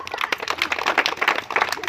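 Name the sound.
audience clapping hands at street performance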